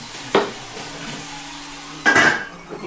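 Carrot goes into melted butter in a pot to start a sofrito for spaghetti bolognese: a quick clank near the start, then a short bright hiss of sizzling that fades over a low steady background hum.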